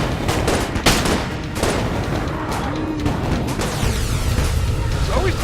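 Rapid, continuous weapon fire from Enter the Gungeon, a top-down bullet-hell game, rattles without pause over busy game sounds, with a voice talking across the bursts.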